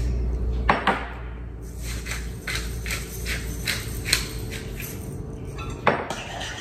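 Pasta salad dressing of vinegar, adobo seasoning, salt and pepper whisked in a bowl, a steady run of close utensil clinks and scrapes with a few sharper knocks against the bowl.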